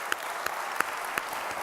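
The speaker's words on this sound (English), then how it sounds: "everybody would give them a round of applause" A workplace seminar audience claps briefly for the morning presenters: a short, loud burst with a few sharp claps standing out from the crowd's clapping, and no voices.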